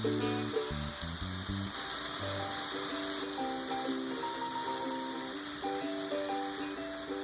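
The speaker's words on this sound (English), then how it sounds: "add 1 tablespoon of sugar and 1 tablespoon of sweet sake and mix them well" Mushroom rice ingredients sizzle steadily in a pan as sugar and sweet sake are added and mixed in, a continuous close frying hiss under light background music.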